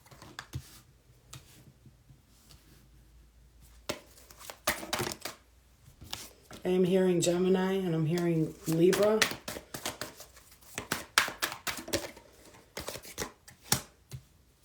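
Tarot cards are shuffled and pulled, making soft crisp riffling and slapping taps in scattered bursts around a person talking.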